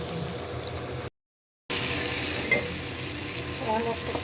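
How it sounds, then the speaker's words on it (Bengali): Fish frying in a pan of hot oil with dried chili and turmeric, giving a steady close-up sizzle and crackle that cuts out briefly, then resumes just as loud. "মাছ ভাজা করেন, ফিরে আসতেছি।"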